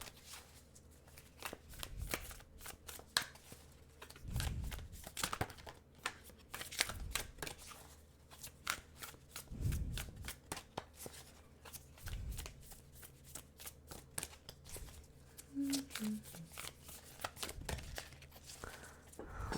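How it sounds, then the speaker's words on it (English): A large tarot-style card deck is shuffled repeatedly at close range, with riffling bursts, soft thuds and papery flicks in an irregular rhythm. "sometimes these cards are hard for me to shuffle because there's such a big deck"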